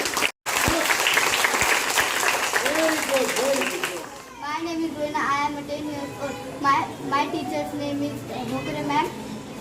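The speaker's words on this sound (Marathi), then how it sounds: "चला जोरदार टाळ्या या सर्वांसाठी" Schoolchildren applauding at a school gathering, a brief burst of clapping that quickly gives way to children's voices chattering and talking loudly nearby.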